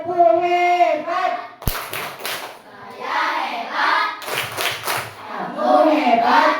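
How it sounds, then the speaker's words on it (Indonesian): An elementary school class in an Indonesian classroom performs the rhythmic "tepuk hebat" clap chant, with bursts of children's hand claps mixed with chanted, sing-song children's voices throughout. "Ya, kita berikan tepuk hebat. Tepuk hebat."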